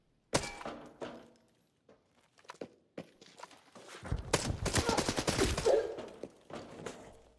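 Video game gunfire: scattered sharp shots and thuds early, then a dense sustained burst of rapid firing building toward the end, fairly close.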